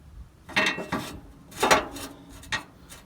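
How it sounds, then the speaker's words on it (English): A Ford 2000 tractor battery tray swings out and scrapes against its metal support, giving a few grinding, creaking scrapes in quick succession, close and fairly loud. "It's scraping on this support here, but that's fine."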